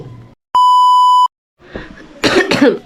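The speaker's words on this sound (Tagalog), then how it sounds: "Ubo pa rin." After a sharp electronic beep, a person coughs twice in quick, harsh bursts close to the microphone.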